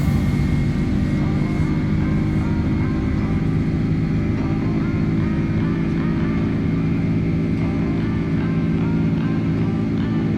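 Airliner jet engines spooling at takeoff power in a flight simulator game, a loud steady roar with a whining hum, continuous throughout, with faint talk underneath.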